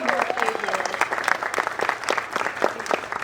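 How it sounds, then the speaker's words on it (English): An audience at a roller coaster 30th anniversary event claps for the staff, a lively burst of applause with some voices mixed in. "Can we give them a big round of applause for putting this all together?"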